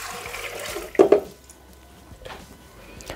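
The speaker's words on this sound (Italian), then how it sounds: "Iniziamo la ricetta mettendo all'interno del boccale l'acqua," Water is poured into the mixing bowl of a Thermomix TM6 kitchen machine while carrots in sweet-and-sour sauce are prepared, a splashy burst with a couple of louder gushes, then softer trickles and faint clinks, with no talking.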